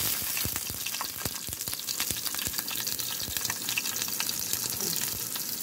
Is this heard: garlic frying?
yes